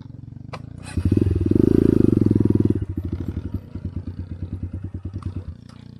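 Motorcycle engine running close by, revving up to a strong throaty burst and then settling into a loud, uneven chugging idle that pulses rhythmically before cutting off near the end.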